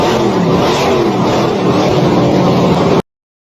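A loud 6.3-litre V8 engine roars and revs steadily for about three seconds, then cuts off abruptly into silence.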